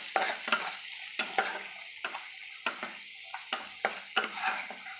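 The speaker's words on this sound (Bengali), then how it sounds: "সমস্ত মশলা দিয়ে ভালো করে আমি কষিয়ে নেব যতক্ষণ না মশলা থেকে তেল ছাড়ে।" Ground spices and salt frying in oil for Bengali katla fish kalia, stirred in a rhythmic series of sharp scraping strokes over a faint sizzle, close and alone.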